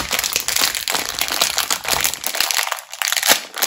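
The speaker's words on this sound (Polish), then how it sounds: "obetnijmy sobie opakowanie. Przejdę teraz rozerwać." Cardboard and plastic packaging of a toy pet shop set being torn and ripped open, continuous loud close crinkling and crunching with no pauses or talk.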